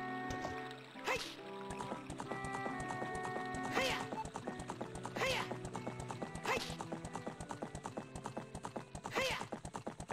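Horse hooves clip-clop at a steady gallop in the N64 game The Legend of Zelda: Ocarina of Time, with occasional whinnies and game music running underneath throughout.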